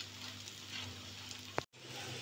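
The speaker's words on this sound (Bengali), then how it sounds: "এভাবে আমি ধীরে ধীরে ভেজে নিব" Egg-coated paratha frying slowly over medium heat in a pan, a steady soft sizzle throughout with a brief sharp crackle near the end, then a short dropout.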